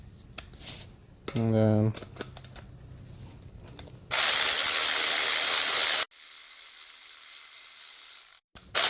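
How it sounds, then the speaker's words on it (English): Screwing a part into an engine block during prep for an LS swap into an S10: brief ratchet clicks and a rising whirr, followed by long loud stretches of hissing, with a short voice at the start. "Screw it in."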